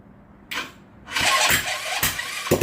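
A Hammerhead GTS 150 scooter engine with no exhaust fitted cranks briefly, then fires and runs rough in loud, close bursts during a short test start.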